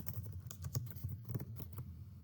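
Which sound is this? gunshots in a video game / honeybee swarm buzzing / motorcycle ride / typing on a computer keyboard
typing on a computer keyboard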